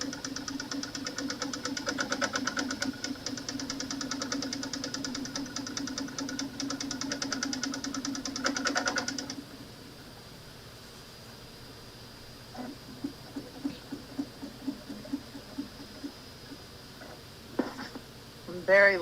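A domestic sewing machine stitches down fused fabric pieces in a steady, loud mechanical whir for about nine seconds. It then stops, leaving faint scattered clicks and taps of the fabric being moved around.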